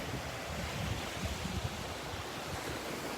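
Ocean surf at Delnor-Wiggins Pass State Park beach on a mild morning, a faint, continuous wash of waves mixed with wind noise, no voices.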